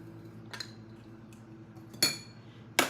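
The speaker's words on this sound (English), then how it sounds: "first I'm gonna mix together my sugar and my cornstarch that's in the recipe" A utensil clinks and taps against a ramekin of sugar and cornstarch being mixed. A couple of sharp, bright strikes stand out over quieter scraping, with no talking.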